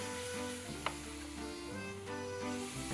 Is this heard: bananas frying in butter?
yes